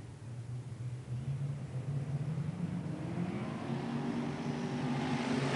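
Modified race cars pull away from the starting grid together in a motor racing event, engines rising in a steady, building roar that swells louder and higher in pitch over several seconds, with no voices.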